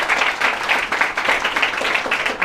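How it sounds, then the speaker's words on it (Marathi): Loud, sustained applause from an audience honouring teachers at an academy event, dense steady clapping filling the whole stretch with no break. "सर्वांनी एकदा जोरदार टाळ्या आपल्या सर्व शिक्षकांसाठी"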